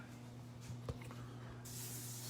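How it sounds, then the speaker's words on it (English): Cooking spray hisses from an aerosol can onto a skillet in a home kitchen, a steady close spray that swells louder in its final second over a constant low hum. "Spray the pan really good"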